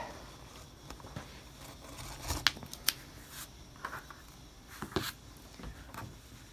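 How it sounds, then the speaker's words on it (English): A pink rotary cutter blade trims fabric for a raglan coat, giving a few soft, brief cutting and crinkling swishes over a quiet room, with the sharpest strokes clustered together midway and another pair near the end. "I'm going to use my rotary cutter blade, the pink rotary cutter blade, and just trim this up"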